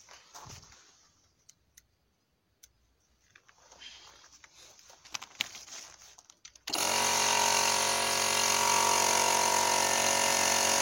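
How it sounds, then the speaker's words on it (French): An impact wrench with a 22 mm socket tightens a fitting on a BMW E46 during a shock-absorber spring job. Quiet scattered clicks and handling noises come first, then the wrench suddenly starts and runs loud and continuous to the end. "avec la douille de 22 et le clé à choc, je vais serrer légèrement."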